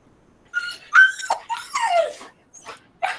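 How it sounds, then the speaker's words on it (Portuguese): A dog whines and yips in short, high-pitched bursts, several rapid calls in a row, fairly close, with brief pauses between. "O som não, só de Merida aqui latindo, querendo sair para ver Valentina"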